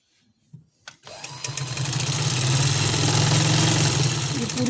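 A sewing machine stitches over lace on a shirt, starting after a couple of soft clicks and then running as a steady, fast mechanical whir.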